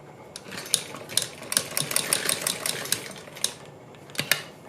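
A sewing machine stitches along a folded fabric strip for a neckline, giving a steady, close mechanical whir with irregular clicks and short bursts, no talking.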